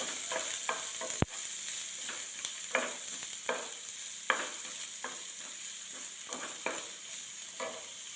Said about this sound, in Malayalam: ഒരു സവാള സവാള ചെറുതായി അരിഞ്ഞത് ചേർത്തു ഇതൊന്ന് വഴറ്റിയെടുക്കണം നമുക്ക്